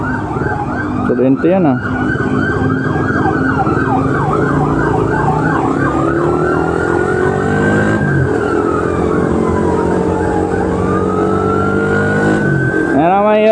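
An ambulance siren wails loud and close as it passes, cycling through a fast warbling yelp and then a slower falling wail over steady traffic noise, with a brief spoken comment near the start.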